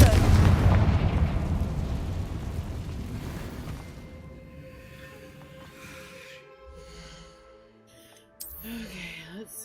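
Confringo explosion spell cast in a video game: a loud, booming blast at the start that rumbles and slowly fades over several seconds, followed by a smaller sharp burst near the end.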